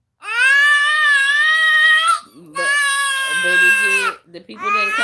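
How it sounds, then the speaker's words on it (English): A baby wails and screams in long, loud, high-pitched cries close to the listener. The cries come in three sustained bursts split by brief gasping breaks. "the people didn't come here to hear you scream, baby"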